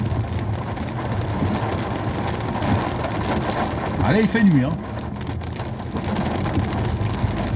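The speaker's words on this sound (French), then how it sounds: "on va vous filmer l'intérieur de l'orage" Steady heavy rain pours during a thunderstorm at night in Normandy, a dense constant hiss close by, while someone speaks French briefly over it.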